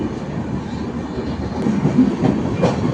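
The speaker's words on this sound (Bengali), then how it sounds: "অনেক দূরপাল্লার ট্রেন, সুদূর মুম্বাই থেকে আসলো ট্রেনটা" Long-distance express train from Mumbai pulling out of a station, a steady low rumble with soft rhythmic wheel clatter that swells slightly toward the end, no voices.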